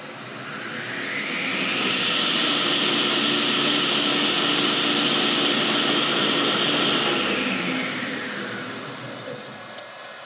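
A Powermatic woodworking machine spins up over about three seconds to a loud, steady whirring roar, holds there, then winds back down to quiet, with a brief click near the end.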